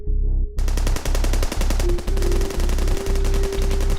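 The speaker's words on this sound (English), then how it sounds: "Unfortunately, the gunshots awoke the armed groups in the area." Gunshots and machine gun fire break in after a short tone, as rapid, loud, sustained bursts that repeat in a dense, pulsing rhythm with brief pauses between them.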